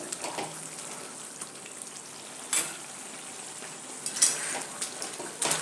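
Onion, capsicum and tomato pav bhaji masala is pressed with a masher in a hot pan, giving a soft continuous sizzle broken by a few squelching presses and light metal taps.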